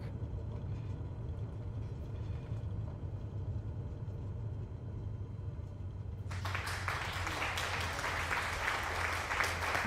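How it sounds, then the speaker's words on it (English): Low engine rumble gives way to a burst of applause after an aircraft landing in a flight challenge, the clapping loud and sustained to the end. "Great landing, thank you Batman for the applause."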